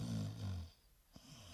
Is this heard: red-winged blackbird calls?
no